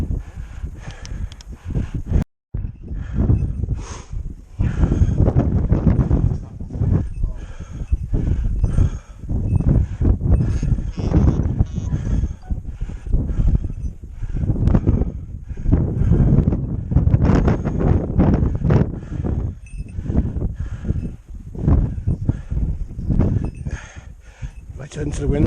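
Strong wind roars and buffets the microphone in a loud, constant rush during a night rabbit hunt with Harris hawks and goshawks, while a person talks through it.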